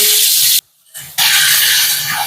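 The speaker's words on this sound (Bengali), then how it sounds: "মাছ ভাজা তেলেই আমি বেগুনটা ভেজে নেব।" Eggplant frying in oil left over from frying fish, a loud close hiss of sizzling oil that cuts out briefly and then resumes strongly, with no voices.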